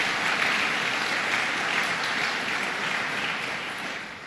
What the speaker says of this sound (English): Let's give him a round of applause for his great leadership.